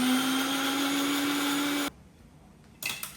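A blender whirs loudly and steadily while grinding masala for millet fried rice, then cuts off abruptly, leaving a quiet room followed by a brief clatter.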